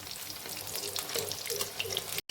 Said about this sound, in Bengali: আমি লো টু মিডিয়ামে গ্যাসে কিন্তু ভাজছি, আর এইভাবে আস্তে আস্তে উল্টে পাল্টে নিতে হবে।